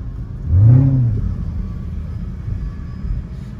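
A car engine in the open air surges into a short rev as the car accelerates, then settles back into a steady low rumble.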